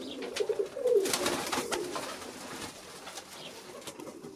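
Crested Zamość pigeons cooing nearby in a loft, a few soft rolling coos early on over quiet background rustle.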